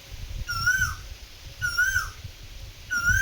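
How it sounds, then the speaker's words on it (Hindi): Asian koel calls from a peepal tree, three clear rising whistled notes repeated at steady intervals, over a low rumbling background. "कोयल की कितनी मधुर आवाज़ आपको सुनाई दे रही है"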